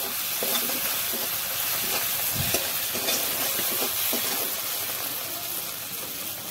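Masala with Kashmiri chili powder fries in a pan for egg and potato curry, giving a continuous close sizzle with intermittent stirring scrapes.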